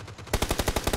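Rapid automatic gunfire in the PUBG battle-royale shooter on PC, a tight burst of about eight evenly spaced loud shots after a brief quieter lead-in.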